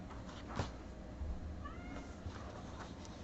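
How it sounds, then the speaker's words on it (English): A house cat gives a short, faint meow off to the side, partly lost in a low, steady background hum, with no talk over it. "that is our cat protesting of the lack of attention."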